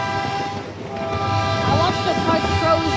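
Train running on the Whiskey River Railway, a steady close rumble with a sustained tonal hum throughout, and people talking faintly under it.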